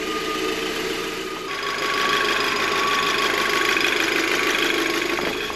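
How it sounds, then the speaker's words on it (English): An Audi TT engine idles steadily after a high-pressure fuel pump upgrade, a continuous mid-pitched hum with a faint knocking tick, close and even, rising slightly in loudness partway through and holding there, with no talking. "Now you've got to let the engine idle for 5 minutes."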